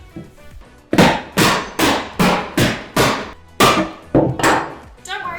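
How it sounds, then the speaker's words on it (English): Hammer prying and striking apart the edge pieces of an old wooden drawer, roughly nine loud, close cracks and knocks at an even pace with short decaying rings between blows. "take my hammer and gently try to pry apart the edge pieces"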